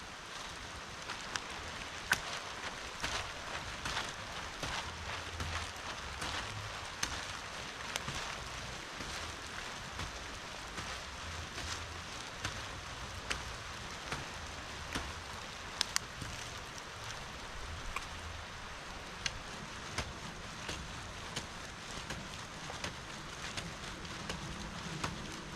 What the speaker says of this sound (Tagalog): Maganda po medyo maulan.